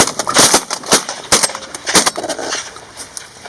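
Several sharp shotgun blasts during a pigeon hunt ring out loud and close in an irregular cluster, some fired quickly one after another, with quieter outdoor noise between them.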